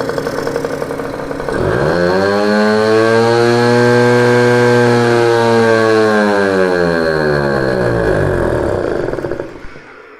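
A Peugeot Fox moped engine with its cover and air filter removed idles loudly, rises steadily in pitch and holds, then falls away as it stalls and goes quiet near the end.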